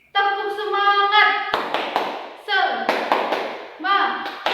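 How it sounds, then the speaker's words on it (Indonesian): Second-grade schoolchildren chant a spirit cheer in unison, their sung phrases alternating with quick bursts of rhythmic hand clapping, close and lively. "Diulang satu kali lagi ya biar semangat. Oke? Tepuk semangat."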